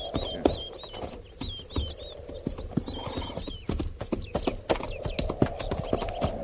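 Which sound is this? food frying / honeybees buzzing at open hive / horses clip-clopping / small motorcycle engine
horses clip-clopping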